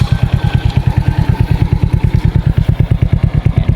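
A motorcycle with a 44 mm pure stainless steel chicken pipe exhaust and tri-electrode plug sits idling, a steady, even, close putt-putt pulse with a slight clatter and no voices.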